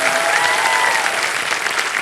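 Studio audience on a televised quiz show applauds loudly and continuously, a thick, even wash of clapping from a large crowd that holds strong throughout.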